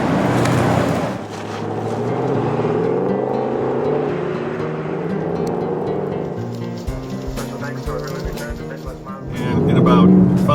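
A Ford Mustang drives on a Rocky Mountain road, its engine droning and shifting pitch as it accelerates, with a voice talking over the steady road noise.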